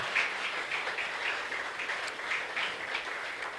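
A church congregation claps together in praise, a dense, steady wash of hand clapping with a loose rhythmic pulse, moderately loud and lasting the whole moment with no voices over it.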